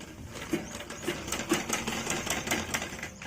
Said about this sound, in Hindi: मैंने बिल्कुल मार्क के पास तक इतना सीधी सिलाई ले ली है